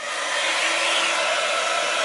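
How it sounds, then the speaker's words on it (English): A heat gun blows hot air onto embossing powder on a handmade nativity card, a steady, loud whooshing roar that holds even for about two seconds. "I get the heat gun."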